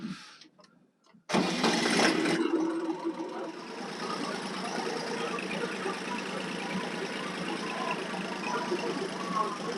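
A tractor engine cranks after a brief quiet moment and catches abruptly, then keeps running with a loud, steady, rough drone close by.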